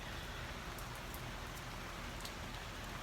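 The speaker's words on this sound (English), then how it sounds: "But it's raining now" Steady rain falls outdoors, a constant dense hiss with no gaps and no voices.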